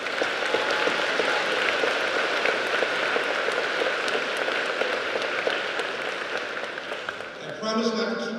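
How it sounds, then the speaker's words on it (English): Applause fills a school gym at a high school graduation ceremony, a broad, dense wash of many people clapping that holds steadily, then thins out near the end as a voice begins over it. "So let's give them a round of applause."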